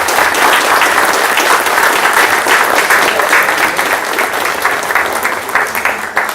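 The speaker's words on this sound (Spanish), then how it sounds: "Un aplauso" A crowd at a Cuban political gathering applauds steadily in tribute to a deceased comrade. The dense, even clapping runs loud and unbroken throughout, with no voices rising above it.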